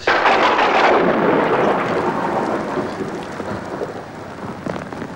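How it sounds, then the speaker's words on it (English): A heavy rumble of thunder rolls in loudly over steady rain, then fades gradually as the downpour keeps hissing on alone. "Spot of rain."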